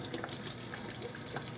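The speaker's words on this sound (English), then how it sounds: "already I can see just with the water running on it" Tap water runs steadily over a glass ACL soda bottle with a painted crown logo and 8 fluid ounce marking, a continuous close splashing hiss with no talk.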